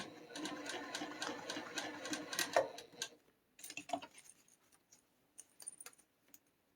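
A sewing machine runs in quick bursts while stitching a quilted box pattern, stopping briefly to pivot at the corners, then starting again in shorter runs separated by quiet pauses.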